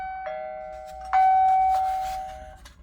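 A newly installed video doorbell chiming, two clear electronic ding-dong tones ringing out close and loud, then fading with a faint beep at the end.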